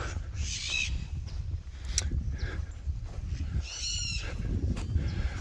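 Distant parrot squawks break through a steady outdoor rumble in a Bolivian cemetery, a couple of harsh, wavering calls spaced a few seconds apart.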